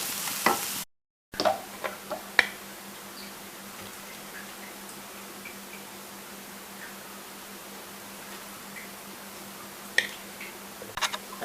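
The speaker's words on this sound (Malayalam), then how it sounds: "ചെറിയതായിട്ട് അരിഞ്ഞ് വെച്ചിരിക്കുന്ന ഇഞ്ചി, അതുപോലെ തന്നെ നമ്മുടെ കറിവേപ്പില ഇട്ട് കൊടുക്കുക. നന്നായിട്ട് ഇളക്കുക." Finely chopped ginger and curry leaves fry in a pan for potato cutlets, giving a soft, steady sizzle with scattered sharp scrapes and clicks from stirring. Near the start there is a brief dropout to silence.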